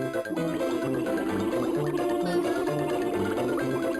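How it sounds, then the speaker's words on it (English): Gurgling underwater humming with bubbling, from the 1996 Living Books game Green Eggs and Ham, steady and close over a musical backdrop with pulsing low tones throughout. "that's the sound of someone sticking their head underwater and, like, humming and, like, blowing bubbles."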